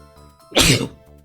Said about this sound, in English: Pardon me, I had to sneeze there.